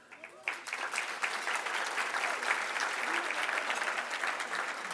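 At an awards dinner, an audience breaks into applause after a quiet start, then keeps up a steady, full round of clapping throughout, with some murmured voices mixed in.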